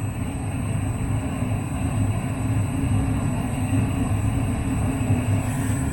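A system air conditioner's four-way valve switches to heating, and the refrigerant gas reverses with a steady, loud whooshing rumble that holds evenly throughout.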